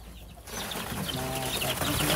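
Farm-bred chickens, some hatched from an incubator, cluck steadily in a coop, with short repeated calls and background bird noise close by.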